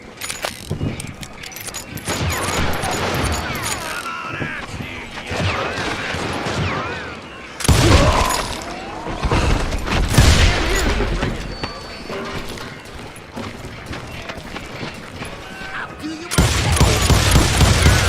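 Gunfire in the PC shooter Call of Juarez: Gunslinger, with repeated loud shot bursts and crashes in clusters across a noisy game soundtrack, broken by brief quieter stretches.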